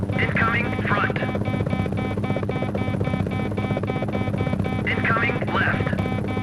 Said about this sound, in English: Enemy chopper. Incoming front.